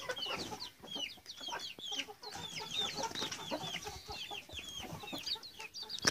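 Farm chickens cluck and chirp busily and close by, with overlapping calls from several birds throughout and no human voice.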